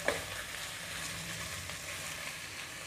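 Mutton masala spices frying in a pan give a quiet, steady sizzle, faint and even, with one small clink at the start.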